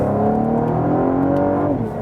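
Cadillac ATS-V with a 3.6-litre V6 pulling hard from inside the cabin, its rising drone climbing in pitch before a sharp drop as it shifts into second gear, loud and close.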